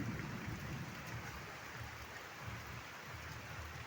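Light drizzling rain falls steadily with a soft, even patter and hiss, a continuous wash of sound with no voices.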